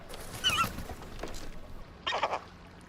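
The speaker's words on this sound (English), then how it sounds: "What happens in this one? Seagulls." Seagulls call in a TV commercial, with a few loud, close squawks in short bursts and a pause between them.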